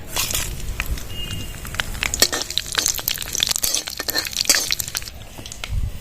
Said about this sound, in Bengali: কড়াইতে সর্ষের তেল দিয়ে দেবো পাঁচফোড়ন আর শুকনো লঙ্কা